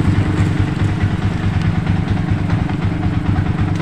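Yamaha Vixion motorcycle engine with a fault that makes it stall when throttled, running close by with a rough, rhythmic low chugging idle at a steady level.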